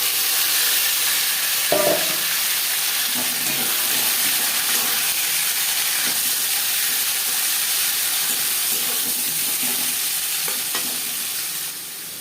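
Onion, garlic and tomato fry in hot oil with panch phoron, bay leaf and chillies, giving a steady, loud, close sizzle and hiss that runs the whole time, with a few soft stirring knocks and no talking.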